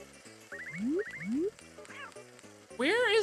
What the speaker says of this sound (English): Wait, what? What's that cat?